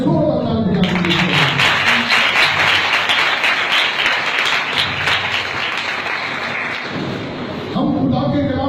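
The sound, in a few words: applause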